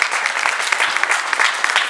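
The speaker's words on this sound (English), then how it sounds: "can we have a big round of applause for Caitlin?" A crowd claps steadily in dense, continuous applause at a press launch for a ride, close and fairly loud throughout.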